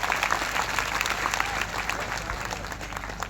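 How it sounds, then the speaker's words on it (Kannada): An audience at a Kannada religious discourse gathering claps loudly and steadily, with dense overlapping claps sustained throughout and a faint murmur underneath. "ಅವ್ರಿಗೊಂದು ಜೋರಾಗಿ ಚಪ್ಪಾಳೆಯನ್ನು ಕಟ್ಟಬೇಕು."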